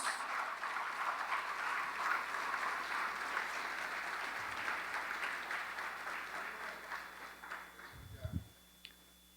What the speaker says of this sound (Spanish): ¿Cuántos dan un aplauso al Señor por esto?